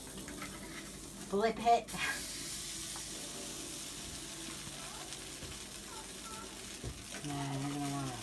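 Food cooking in butter in a pan, a quiet, steady frying hiss with a brief clatter of handling early on, and a voice speaking faintly near the end.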